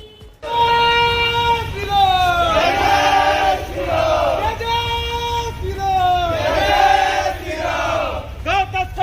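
Crowd at a protest rally against cow smuggling chanting slogans in unison, loud and close, rising and falling in repeated rhythmic call-and-response phrases with shouted voices throughout.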